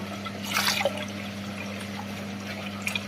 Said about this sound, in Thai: เอาเอาถ้วยมาใบหนึ่งแล้วก็เปิดน้ำใส่น้ำเย็นใส่นะคะ